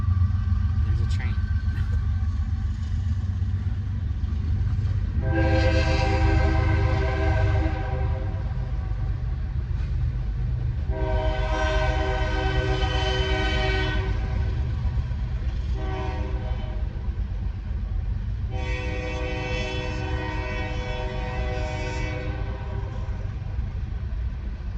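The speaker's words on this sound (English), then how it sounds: "There's a train." A train passes with its horn sounding in several long blasts, each a few seconds apart, over a continuous heavy rumble of rail cars rolling by close at hand.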